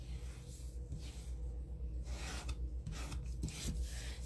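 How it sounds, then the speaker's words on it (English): Burnishing the folded edge of a Blackberry Bliss cardstock card base: a steady, close scraping rub running along the paper fold, repeated in short passes, with no talking. "I'm just going to burnish that edge down"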